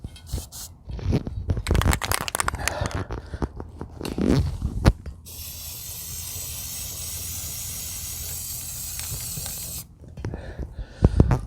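A steady aerosol spray hisses for several seconds, bracketed by clattering handling noises and the rattle of a can before and after.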